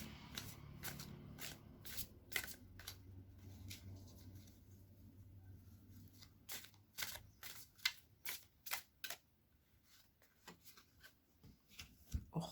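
Archangel tarot cards being shuffled by hand, a soft rustle that turns into a run of crisp, rapid flicks and riffles. The riffles come in quick bursts, close and clear, with no talking.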